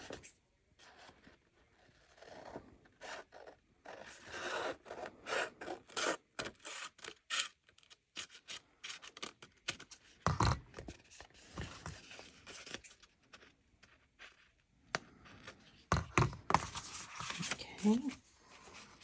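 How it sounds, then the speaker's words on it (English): Scissors trimming a vintage-style time card made into a journal tag, giving quiet, irregular snips and paper rustles in short bursts, close up. "I'm going to trim mine off."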